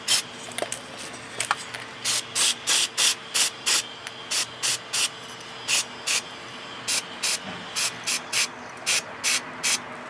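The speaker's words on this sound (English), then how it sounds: "first I'm gonna use a brake cleaner to clean this one" Brake cleaner hisses from an aerosol can in repeated short bursts of even length, about twenty in ten seconds, aimed at the oxygen sensor from a 2014 Honda Accord. The spraying is close, crisp and sharply separated by brief pauses.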